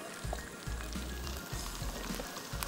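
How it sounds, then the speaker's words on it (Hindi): Mutton fries in a pan with garlic-ginger paste and salt, giving a continuous crackling sizzle with scattered pops and a recurring low rumble underneath. "इसके साथ आपको डालना है मटन और थोड़ा सा नमक, और इसको खूब अच्छे से फ्राई करना है"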